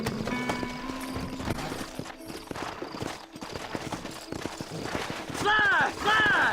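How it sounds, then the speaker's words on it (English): Horses trot and gallop in the western game Red Dead Redemption, their hooves clip-clopping in a steady rhythm under the game's music and effects. Voices talk over the hooves, and near the end a horse gives loud whinnies. "Horses are over here!"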